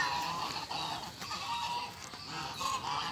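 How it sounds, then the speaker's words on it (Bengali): Geese at a goose farm in the evening, returning home after being let out for the day, make continuous dense honking and calling, a steady flock chorus without talk. "এটা হচ্ছে আমাদের হাঁসের খামার"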